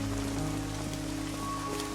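Steady rain falls in a continuous, even hiss at moderate level, with a faint tonal hum running beneath it and no voices.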